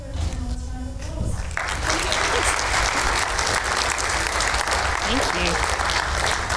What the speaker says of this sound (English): Could you please give her a round of applause?